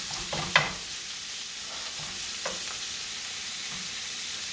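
Pork fries in hot oil with a steady close sizzle while a utensil breaks it up and stirs it, giving a few soft scraping knocks over the constant hiss.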